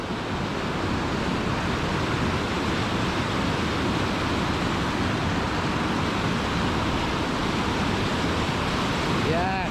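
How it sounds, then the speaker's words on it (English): Churning, swirling river water near a waterfall in a wild Scottish glen, a steady, loud broadband rush that continues unbroken throughout. "look at the way the water's churning and swirling here."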